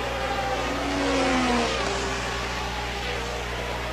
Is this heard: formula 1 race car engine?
yes